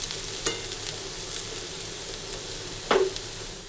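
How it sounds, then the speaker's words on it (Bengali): Potatoes and onions frying in a home kitchen pan give a constant close sizzle, broken by a couple of sharp scrapes from stirring. "আর এখানে যে আলু ভাজা হচ্ছে"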